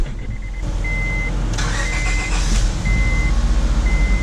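A small Honda Civic engine running steadily at idle, close and loud, with a low throbbing rumble and a thin repeating tonal beep over it.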